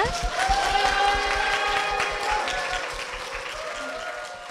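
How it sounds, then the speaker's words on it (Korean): Audience applause during a church TV program, a dense burst of clapping that starts strong and slowly tapers over several seconds, with a few cheers mixed in. "큰 박수 부탁드립니다."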